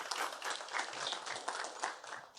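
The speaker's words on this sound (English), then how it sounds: "let's give him a warm round of applause for Major General Carden" An audience claps for Major General Thomas M. Carden as he is introduced for a keynote. The applause is brief and fairly quiet, with an uneven texture of many hands.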